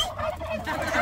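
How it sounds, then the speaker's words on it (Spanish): A turkey gobbles loudly and close, a rapid warbling burst filling the whole moment with no talk over it. "Ahí viene el pavo."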